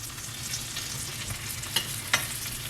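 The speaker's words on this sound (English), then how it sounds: "Then when this is done, I'm putting the onions in this." Onions frying in a pan after blackened fish make a steady close sizzle with a couple of sharp utensil clicks near the end, no talking.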